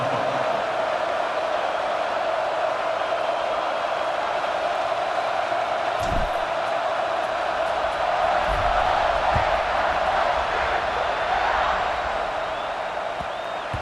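A stadium crowd at a Missouri vs Ohio State college football game roars steadily before kickoff, a broad sustained cheer with a few louder whoops, heard alone.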